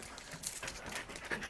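Dogs panting up close in quick, breathy bursts while being clipped onto leashes at home, a steady rhythmic huffing with a few louder breaths, no talking over it.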